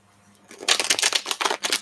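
A deck of tarot cards is riffled and shuffled in a rapid burst of crisp, papery flutters and snaps, close and fairly loud, starting after a brief quiet moment.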